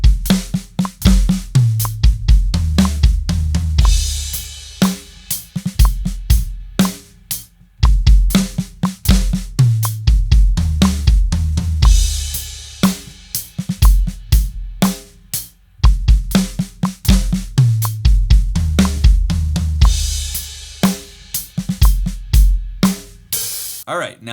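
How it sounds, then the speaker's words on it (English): Drum fill slowed to 60 bpm across floor tom, snare and kick, played as repeated loud percussive patterns of struck hits with short gaps, cycling several times over about 24 seconds. "So that, slowed down to 60 beats per minute, sounds like this."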